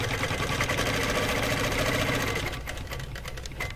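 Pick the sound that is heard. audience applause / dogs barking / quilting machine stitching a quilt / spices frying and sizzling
quilting machine stitching a quilt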